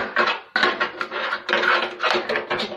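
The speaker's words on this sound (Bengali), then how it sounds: "এখন আমি তাওয়া বসিয়ে দেবো, তাওয়া বসিয়ে দিয়ে এটা ভেজে নেব।" A tawa griddle pan set down on a kitchen stove, heard as a few close, loud metallic knocks and scrapes with short clattering bursts and no talking.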